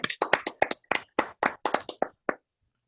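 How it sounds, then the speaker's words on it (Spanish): A small group claps in a loose, uneven patter of about a dozen distinct hand claps after a church gathering, close and fairly quiet, thinning out and stopping after roughly two seconds. "Un aplauso al Padre José Luis"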